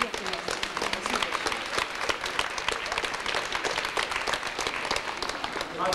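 Sustained applause from a graduation audience at a Moscow State University psychology faculty diploma ceremony in 1994, dense steady clapping filling the hall throughout with a murmur of voices underneath.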